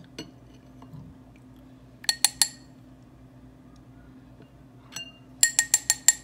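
Small bowls clink together in a kitchen, first a quick cluster of three bright glassy taps, then a faint knock and a rapid run of four more close, ringing clinks over quiet background hum.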